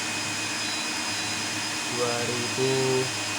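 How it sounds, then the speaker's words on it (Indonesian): Blower switched on as a load on a 2 kW low-frequency offgrid inverter, producing a steady vacuum-like whir with electrical hum. Steady tones rise over it in the last second and a half while a person talks. "Kemudian kita tambah beban blower."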